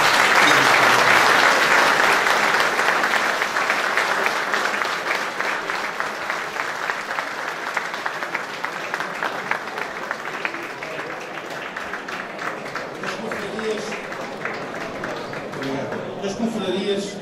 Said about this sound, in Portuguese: Uma salva de palmas que vos peço para conseguir.